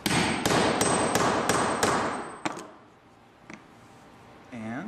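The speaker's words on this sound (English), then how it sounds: "I'm going to grab a hammer and a couple heavy whacks." A hammer striking a grommet punch to set a grommet, six rapid, heavy, ringing metallic whacks in steady rhythm, close and loud, followed by a couple of lighter taps.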